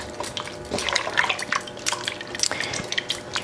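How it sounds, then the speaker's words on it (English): Water is poured into a pot of vegan vegetable soup, giving irregular splashing and dripping at close range with no talk. "So we're going to add some additional water here."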